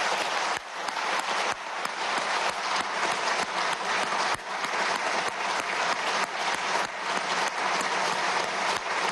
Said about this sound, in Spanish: Pido un minuto de aplauso